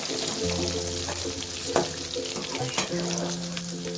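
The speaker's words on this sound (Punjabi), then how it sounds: "ਸਾਡਾ ਤੇਲ ਹੁਣ ਗਰਮ ਹੋ ਚੁੱਕਾ ਹੁਣ ਅਸੀਂ ਇਹਦੇ ਵਿੱਚ ਐਡ ਕਰਦੇ ਮੇਥੇ ਤੇ ਜੀਰਾ" Fenugreek seeds and cumin sizzling in hot oil for a Punjabi kadhi tadka, a dense steady crackle close by with a couple of sharp utensil knocks and a faint hum underneath, no talking.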